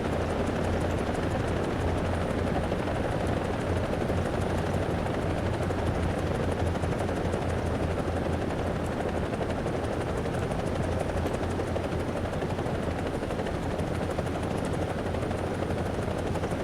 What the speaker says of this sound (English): so now I have a Huey with 30mm gun pods